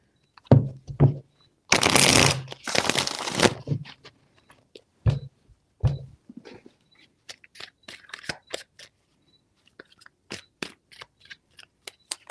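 A deck of tarot cards is shuffled three times, each shuffle a dense riffling burst, the middle one longest, followed by scattered light taps and card clicks, close and crisp with no talking.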